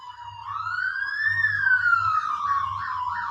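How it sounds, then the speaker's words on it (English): An ambulance or fire engine siren wails past with a rising and falling tone, loud and close, over a low rumble of traffic, with no voices. "We just had like ambulance, fire, whatever it is, go past."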